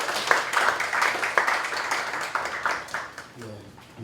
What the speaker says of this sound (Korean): 박수로 같이 한번 맞아주시면 좋겠습니다